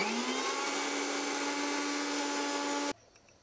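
A mixer grinder blends raw potatoes with water in a loud, steady whine with a rising motor pitch, running continuously before cutting off abruptly near the end, leaving quiet room tone.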